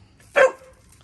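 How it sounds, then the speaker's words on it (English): A single short dog bark, fairly close, in an otherwise quiet setting. "I don't like the barking either, but he's a dog"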